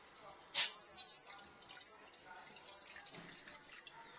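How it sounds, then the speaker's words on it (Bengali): Water is poured into a dough mixture for Bengali chushi pitha, a winter sweet: a sharp short splash, then faint intermittent trickles and drips. "আমি জল দিয়ে দেব"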